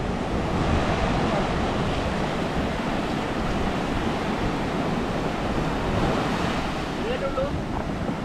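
Sea waves wash onto the beach at Muzhappilangad as a steady, close roar of surf mixed with wind buffeting the microphone, and faint voices are heard far off.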